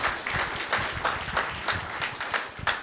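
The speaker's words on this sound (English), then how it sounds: "So how about applause for them?" An audience at a police department community meeting in a church claps in a brief burst of applause, a fairly modest crowd with uneven, pulsing hand claps at moderate distance.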